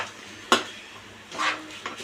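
Chicken going into a hot pan of fried ginger-garlic paste for chicken fry: a sharp metallic clank, then faint sizzling and a couple of softer scraping stirs, close and brief.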